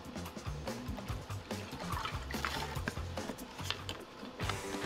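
Vodka being poured for a Sour Apple Martini, a short liquid trickle and splash into a glass with small clinks, close up and fairly quiet.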